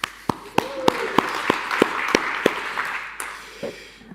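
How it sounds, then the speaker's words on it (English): An audience at an energy conference claps for themselves after a breathing exercise: around a dozen sharp, evenly spaced claps ring out over a soft murmur, then taper off. "And then clap for yourself."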